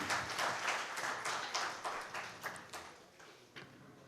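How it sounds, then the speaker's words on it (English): Faint applause from an audience at a professional seminar on real income and Supreme Court judgements. The scattered hand claps are quiet and distant and fade gradually over the clip. "Let's have the applause going."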